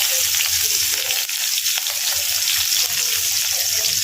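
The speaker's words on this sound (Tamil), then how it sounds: "வெங்காயம் நல்லா வதங்கி வரட்டுங்க" Sliced large onions sautéing in a hot pan with cumin and curry leaves for an egg chukka fry, a loud continuous hissing sizzle with light stirring scrapes throughout.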